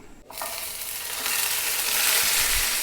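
Onions and green chillies hit a hot pan and begin frying, a sizzle that surges after a short soft start and keeps building into a loud, close hiss with faint stirring knocks.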